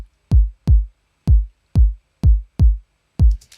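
Seven punchy, booming kick drum hits from beat-making software land in an uneven, off-beat pattern, each one decaying quickly into silence before the next.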